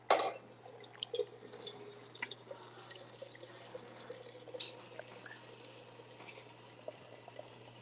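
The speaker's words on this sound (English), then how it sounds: "our recipe calls to pre-wet 200 grams of hot water going in" Hot water poured onto a coffee filter to pre-wet it, a quiet, steady trickle running throughout, with a few light clinks near the start and again toward the end.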